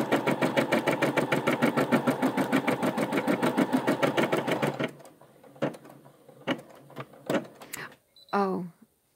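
A Brother embroidery machine stitches with a fast, even mechanical chatter for about five seconds, then slows into scattered clicks and a brief whirring motor sound.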